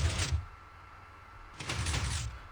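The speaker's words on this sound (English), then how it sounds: "I have set up basically how our doors are going to work. They're going to be automatic" Automatic doors in a sci-fi video game slide open and shut: two broad hissing, whooshing bursts, the first at the start and the second after a pause, with a low mechanical rumble beneath, fairly close and with no talking.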